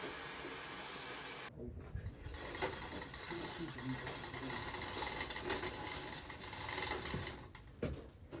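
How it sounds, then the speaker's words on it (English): Worn single drum winch on a sailboat being cranked to tension a sail, with a continuous close ratcheting whir and clicking amid wind and background noise. "tension the last bit with a single drum winch"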